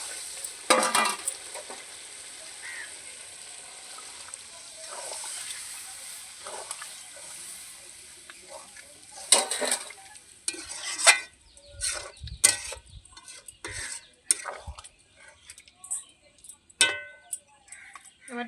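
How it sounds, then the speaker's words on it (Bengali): Chicken kosha mangsho, a spicy Bengali curry, sizzles in a pan with stirring and scraping, then bursts louder as a little water hits the hot pan, amid clinks of a spoon against metal. "এবার একটু জল দিয়ে দেবো।"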